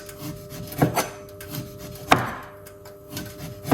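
An orange being peeled by hand, with close rubbing and tearing rasps of peel coming in irregular bursts, a sharper rip midway, no talk.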